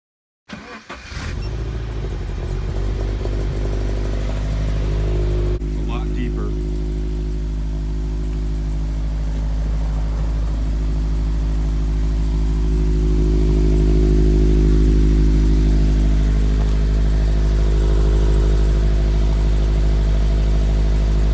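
A turbocharged Scion FR-S with a modified resonator idles and then holds a deep, steady exhaust rumble after starting, loud and close, with the drone growing slightly in the second half.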